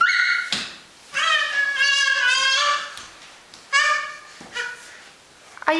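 A crawling baby makes a series of high, voiced yelps and squeals that imitate a dog barking, arriving in short bursts with brief pauses between them. The sounds are loud and close.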